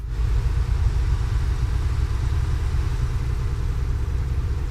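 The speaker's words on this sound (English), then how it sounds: "I don't know if the engine behind me is the one that I can hear" A steady, low truck engine rumble in Euro Truck Simulator 2 idles continuously throughout, dense and unchanging in the low end with a faint hiss above it.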